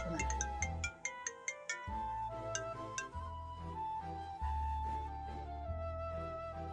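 A melodic phone ringtone plays continuously, with bright chiming notes repeating over a steady tone, loud and close, no voices.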